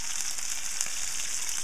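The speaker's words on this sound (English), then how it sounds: "You want to get a nice sizzle." Chicken pieces sizzle in hot olive oil in a pan, a steady bright crackling hiss with small pops, close and continuous, with no voices.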